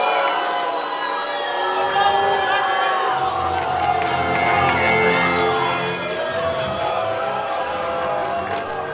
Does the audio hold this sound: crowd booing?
yes